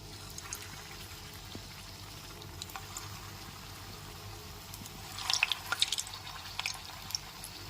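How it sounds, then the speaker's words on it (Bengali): Chhana cottage-cheese balls dropped one by one into well-heated white oil, a faint steady crackle that swells into brighter, busier bubbling and popping near the end. "তেলটা এখানে খুব ভালো মতো গরম করে নিয়েছি এবার ছানার বলগুলোকে একে একে দিয়ে দিচ্ছি"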